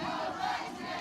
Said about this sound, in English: Redskin crowd getting loud.